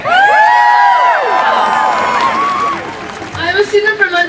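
A crowd at a March For Our Lives rally cheering and whooping, loud overlapping shouts and high cries that fade slightly before a speaker's voice rises over it.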